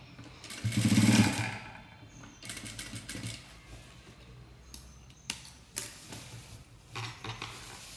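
A sewing machine stitching a folded section of a saree to lengthen it, one short close whirring run near the start followed by quieter clicks and handling noises.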